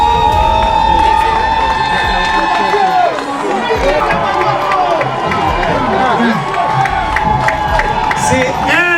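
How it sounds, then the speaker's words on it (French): Crowd cheering, whooping and applauding at a ministerial handover ceremony for the environment ministry, a loud, dense wall of voices and shouts with clapping mixed in, sustained throughout. "Est-ce qu'on peut commencer à applaudir et appeler les excellences?"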